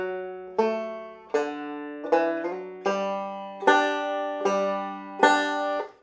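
A banjo plucks a steady melodic-style pinch pattern from "The Girl I Left Behind Me," bright, ringing notes, each pinch clear and close, repeating in an even rhythm with no voices.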